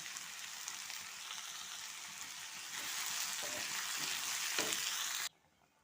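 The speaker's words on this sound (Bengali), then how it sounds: "এই দেখুন, জলটা আমার ফুটে উঠেছে।" Water with salt and turmeric boils in a cooking pot, a continuous bubbling hiss that grows a little stronger midway, then cuts off abruptly near the end.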